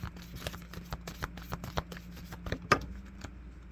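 Oracle cards from the Healing Energy Oracle deck shuffled by hand, a quiet, close series of rhythmic riffling slaps with one sharper snap near the end, no talking.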